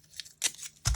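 Scissors snip a small scrap of blue fabric, three short quiet cuts close by with brief pauses between, no talking.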